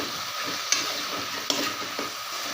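Vegetables sizzling and frying in a pan, a steady crackle with a few sharp clinks of a utensil stirring; no talking.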